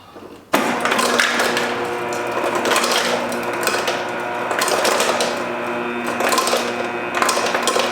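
Ice cubes are taken from a freezer with a burst of hard clattering and rattling that starts abruptly, then continues in uneven knocks and clinks nearby, with no speech.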